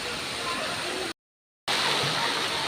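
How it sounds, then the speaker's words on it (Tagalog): A small, simple waterfall on a mossy trail in light rain, giving a steady close rush of falling water that cuts out to total silence for half a second and then resumes at the same level. "Ayan, napakasimple ng falls nila."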